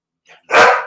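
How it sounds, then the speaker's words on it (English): A dog named Dexter lets out a single loud, close bark, preceded by a brief faint yip, in a quiet indoor room. "Sorry about the dog. I hope he's not going to do that the whole time."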